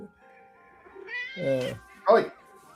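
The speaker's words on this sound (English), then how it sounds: "Hey, kitty." A cat meows twice nearby, a drawn-out rising meow followed by a shorter sharp one, fairly quiet, with a voice and faint room sound around it.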